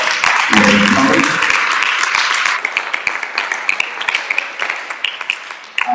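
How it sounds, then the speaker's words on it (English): A school audience applauds fellow students after talks, dense clapping that opens with a short burst of voices and thins into scattered, sharper individual claps toward the end. "give your fellow students a round of applause"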